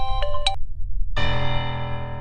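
A phone ringtone plays: a few short bright electronic tones, a brief pause, then a sustained rich ringing chord, loud and close.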